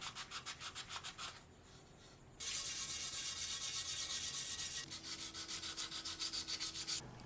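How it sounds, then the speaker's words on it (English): Sandpaper rubs against a brass trumpet to strip off solder and lacquer, with rapid back-and-forth strokes, a stretch of continuous harsh scraping, then rhythmic strokes again, close up with no talking. "Next was simply using sandpaper to get off all the remaining solder and patches of lacquer."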